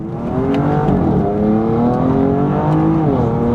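A BMW M4 engine revs under load with rising and falling tones and rapid downshift blips, a loud continuous close-up drone from inside the car without speech.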